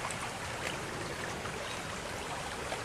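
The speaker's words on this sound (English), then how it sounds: "So there's another small creek on the other side" Small creek flowing past a road culvert, a steady soft rushing and trickling wash, even and continuous at moderate distance.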